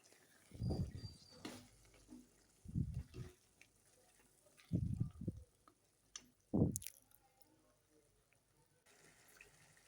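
Cooked kidney beans go into a pan of spices frying in oil, giving four soft, squishy plops spaced a couple of seconds apart, faint and close in an otherwise quiet room.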